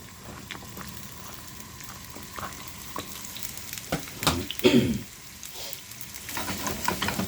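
Onions and peppers for a chicken jalfrezi fry in a hot pan with a steady, low crackling sizzle, swelling briefly louder midway as the vegetables are stirred.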